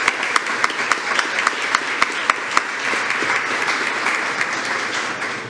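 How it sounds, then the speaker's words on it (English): At a school district board meeting, a roomful of people applauds the national champion dance officers; a few sharp, distinct claps come first, then the applause swells into steady, dense clapping. "Let's give them a big round of applause."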